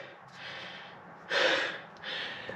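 Heavy, out-of-breath breathing up close, a few audible gasping inhales and exhales, one sharper and louder than the rest, with no speech.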